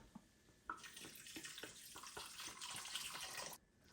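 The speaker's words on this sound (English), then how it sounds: "I'm going to add about a cup of water" About a cup of water poured into a pot of homemade vegetable stock with rice and carrots on a low stove: a few soft drips, then a steady close splashing stream for roughly three seconds before it stops.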